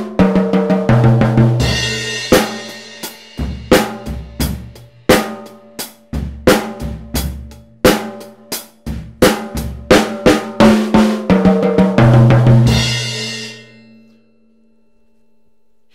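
A drum fill on a drum kit plays loud and close, with rapid tom and snare hits, crashing cymbal accents and kick beats in a driving pattern that ends with cymbals fading out.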